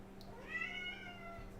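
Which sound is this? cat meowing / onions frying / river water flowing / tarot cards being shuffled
cat meowing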